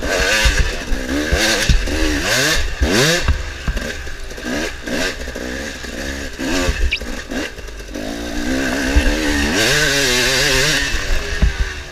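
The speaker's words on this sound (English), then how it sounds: "I start giving it some throttle" A harescramble dirt bike racing at Thunder Ridge in WNYOA Round 7 of 2016 revs hard under throttle, its loud, close engine rising and falling in pitch over and over with clattering, continuous throughout.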